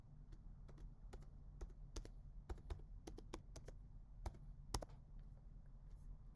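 A password being typed on a computer keyboard: a quick run of light key clicks in uneven bursts, quiet over a low steady hum, with no speech.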